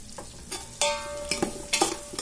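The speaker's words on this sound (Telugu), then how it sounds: "కొద్దిగా ఆనియన్స్ బ్రౌన్ అయ్యేంత వరకు ఫ్రై చేసుకుందాము" A spatula stirs frying onions, green chillies and carrots in a pan for chicken pulao, making quick scraping strokes and metallic clinks over a steady sizzle, close up and without talking.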